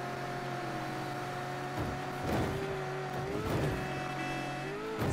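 Car driving in the video game Mafia III, a steady engine hum with rising and falling tones as it shifts, plus several sharp tire screeches and skids in the second half, heard fairly quietly and with no voices.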